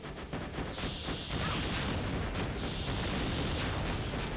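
Loud, dense explosions in a Simple 2000 video game, a continuous roaring blast with overlapping booms that clip and distort, filling the whole stretch without talk.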